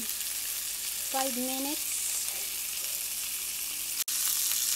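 A homemade hamburger patty fries in a pan with a steady, fairly quiet sizzle, while a voice briefly speaks over it.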